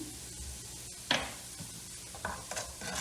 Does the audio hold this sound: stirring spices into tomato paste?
yes